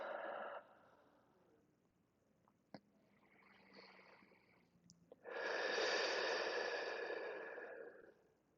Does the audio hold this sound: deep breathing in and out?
yes